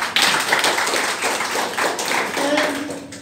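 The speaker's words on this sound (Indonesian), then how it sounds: "Alhamdulillah, tepuk tangan dulu" Applause from a small group at a hospital accreditation meeting in Indonesia, a short burst of brisk, close hand claps that thins out, with voices murmuring underneath.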